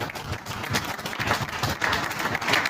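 A church congregation claps together in a brief burst of dense, fairly loud applause with a rhythmic edge, filling the space without any spoken voices.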